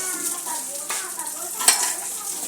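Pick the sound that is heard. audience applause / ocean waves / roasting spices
roasting spices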